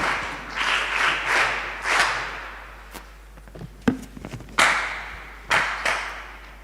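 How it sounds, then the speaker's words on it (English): An audience at a live schools debate claps to welcome the Prime Minister: a few short bursts of applause rise and fade, broken by scattered thumps and single sharp claps, then a final shorter round near the end. "May we please welcome the Prime Minister to open the debate for us with a round of applause."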